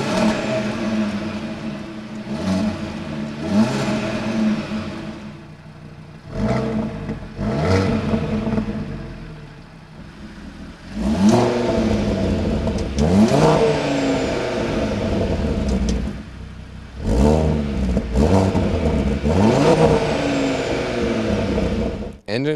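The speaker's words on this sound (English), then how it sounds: "the performance exhaust is different on the inside a little bit, therefore creates a better sound" A 2020 Audi RS Q3 Sportback's five-cylinder engine with performance exhaust revs hard several times, each burst climbing and falling in pitch, loud and close, with throaty exhaust between the pulls.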